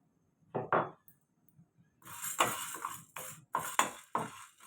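Dry chana dal poured into a frying pan for a brinjal masala fry, giving a few short rattling bursts, then a dense crackling clatter of dal hitting hot metal in repeated pulses, close and clear with no talk.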